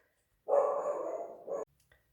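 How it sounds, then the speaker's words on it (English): A Schnauzer-type dog named Texas barks indoors, apparently at someone knocking on the door: one sustained, loud bark-like burst of about a second, then a shorter second burst, followed by quiet. "Not so much when he's barking, but he is a good guard dog."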